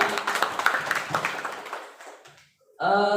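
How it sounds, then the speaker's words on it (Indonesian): Brief applause from a group at a positive-culture teacher training session, a dense burst of clapping that fades out over a few seconds before talk resumes. "Tepuk tangan lagi untuk kita semua"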